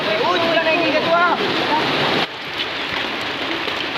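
Heavy rain pours steadily on a surface nearby, a loud dense hiss that eases slightly halfway through, while people talk over it at first.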